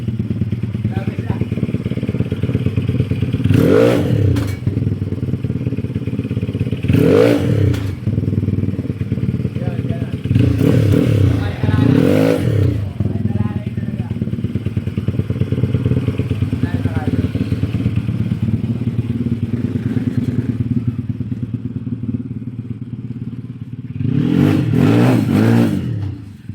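A Yamaha Mio automatic scooter converted to a 246cc hybrid engine on stock gearing is revved in several sharp bursts over a steady loud idle, with pauses between throttle blips and a final burst near the end.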